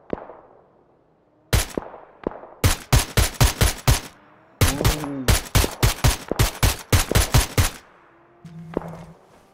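Gunfire in the video game PUBG: Battlegrounds, with loud, close bursts of rapid automatic shots in several clusters separated by brief pauses and ringing tails.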